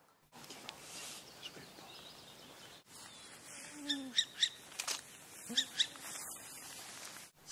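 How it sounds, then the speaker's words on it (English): An owl calls in a forest near Oulu, Finland, giving several faint, fairly distant calls in two short clusters midway through, over a quiet background with soft chirps from other birds. "We'll be showing you owls around Oulu"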